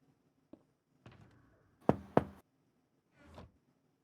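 Knocking on a door: a light single tap, a scrape, then two loud sharp knocks and a softer final thump, spaced irregularly in an otherwise quiet room.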